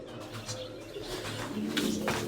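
Soft pigeon cooing murmurs on and off amid a busy background hum, with a few faint chirps; no one speaks.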